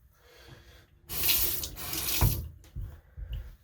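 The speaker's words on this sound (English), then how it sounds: "I'm gonna rinse off real quick here." Water runs from a sink tap for a rinse after a straight-razor shave, a close, loud splashing gush that starts abruptly about a second in and keeps flowing in uneven bursts, with no talk.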